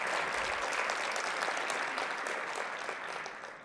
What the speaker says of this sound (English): Let us give them all a round of applause.